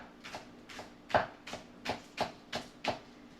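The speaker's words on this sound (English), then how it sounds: "So I'm going to chop up this green onion right quick" Steady knife chops on a cutting board, about eight even strokes slicing green onion, close and crisp, with a faint hum underneath.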